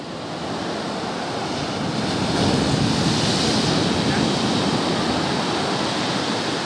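Sea surf at Praia da Armação beach in Penha, Santa Catarina, washes in as a steady, broad rushing roar that swells slightly midway, with some wind buffeting and no voices.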